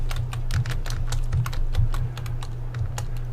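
Rapid typing on a computer keyboard in a spreadsheet: a close, continuous stream of light plastic key clicks in quick irregular bursts over a low steady hum, with no talking.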